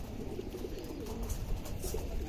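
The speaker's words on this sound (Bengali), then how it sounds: "আমাদের বাসার ওয়ান অফ দ্য মোস্ট বিশ্বস্ত একটা জেনারেশন ছিল এই যে কবুতরগুলা" Kata-line pigeons coo at home, a soft, low, continuous burbling close by with faint background noise and no voices.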